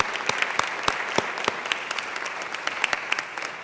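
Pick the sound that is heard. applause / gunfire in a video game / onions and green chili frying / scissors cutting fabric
applause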